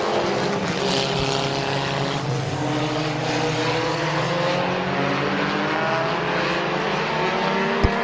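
Race cars roar around Midvale Speedway, a loud continuous blend of several engines droning and shifting pitch as the pack passes nearby, with no break in the noise.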